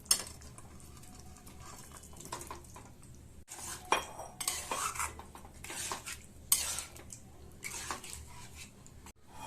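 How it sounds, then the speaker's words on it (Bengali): Potatoes tipped into hot oil in a pan for vegetarian aloo dum and stirred, with repeated scraping and clattering of a utensil against the pan in uneven bursts, close and fairly loud, with no talking. "এবার এর মধ্যে আমি আলুগুলো দিয়ে দেবো"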